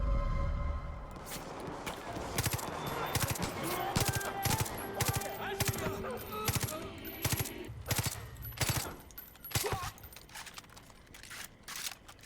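A rifle in Far Cry 5 fires in short three-round bursts, sharp clustered cracks repeating at irregular intervals across the clip with faint background game noise between them.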